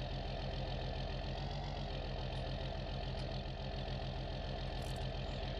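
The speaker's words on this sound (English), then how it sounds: "move that combine out of the way" A combine harvester engine in Farming Simulator 19 runs at a steady idle, a dense, constant mechanical drone that stays even and unbroken throughout, with no talking.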